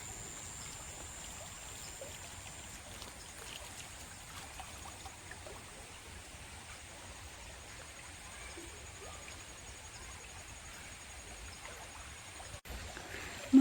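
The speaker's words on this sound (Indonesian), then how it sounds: "sungai mengalir deras dan persawahan" A small river in Kapas Ijo flows swiftly past rice fields, a steady, even rush of water that holds at the same level throughout, with no voices.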